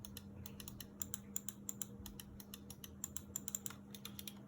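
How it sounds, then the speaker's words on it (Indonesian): Gaming mouse buttons click in quick, uneven bursts of sharp, close taps over a steady low electrical hum, with no talk. "Ini kliknya lebih kencang, sedangkan ini kliknya lebih nyaman."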